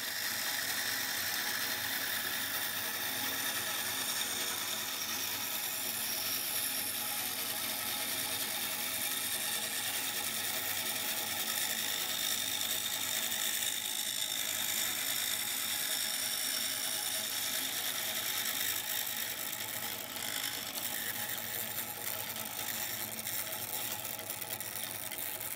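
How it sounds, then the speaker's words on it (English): A bandsaw fitted with a thin blade cuts curved pumpkin shapes from plywood, giving a steady, fairly quiet mechanical whir and hiss that continues unbroken, with no voices. "I've got a thin blade on the bandsaw here, so I can really get around these sharper curves."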